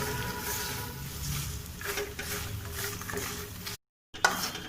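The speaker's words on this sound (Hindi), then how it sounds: "सबसे पहले हम इस मखाने तलने के लिए इसमें घी डाल रहे हैं।" Fox nuts (makhana) frying in ghee, a low, even sizzle with scraping and stirring clatter that cuts out briefly near the end and then resumes with a sharper clink.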